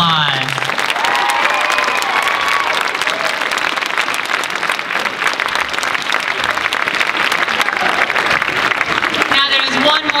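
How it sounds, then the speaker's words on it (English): A convention masquerade crowd applauds volunteers with loud, dense, sustained clapping that fills the room for about ten seconds, with a voice briefly heard at the start and again near the end. "Give all of our volunteers one big round of applause."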